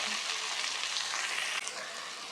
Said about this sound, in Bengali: ওই একই তেলে আমরা ব্রোকলিগুলোকেও একটু লাল লাল করে ভেজে নেব।